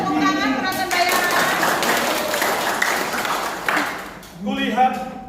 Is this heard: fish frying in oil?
no